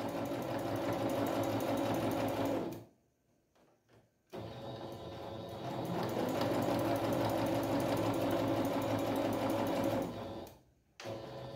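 A sewing machine stitches patchwork fabric for a table runner, its presser foot close to the cloth, running in a steady close whir with brief stops around three and ten and a half seconds, no talking.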